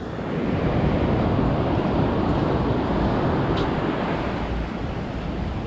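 Surf washing onto Candolim beach in Goa, a steady loud roar of breaking waves with wind rushing across the microphone, continuous and unbroken with no voices.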